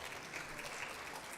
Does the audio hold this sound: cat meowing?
no